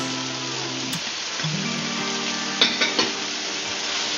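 Beef kidney, liver and heart are stirred in a pot for Filipino beef adobo. A steady frying sizzle carries a few wet scraping and clanking stirring strokes near the end.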